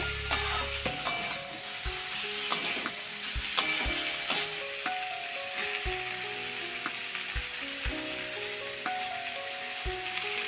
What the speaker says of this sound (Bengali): অল্প অল্প করে দেবো আর নাড়াতে থাকবো আমি।